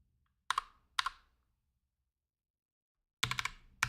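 Keys on a computer keyboard clack in short bursts, two single taps and then a quick cluster of strokes, close and crisp against silence.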